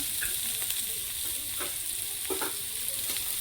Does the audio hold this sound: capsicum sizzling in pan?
yes